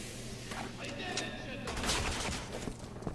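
In Resident Evil 6 on PS3, during Jake's campaign, gunfire is aimed at the player. Scattered bursts and sharp shots crack amid ongoing game noise, some near and some farther off.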